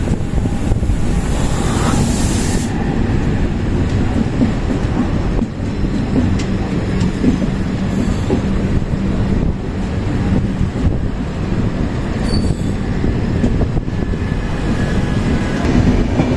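The Pune–Hazrat Nizamuddin Duronto Express rushes past close by, a loud continuous roar of wheels and carriages with wind buffeting, no voices.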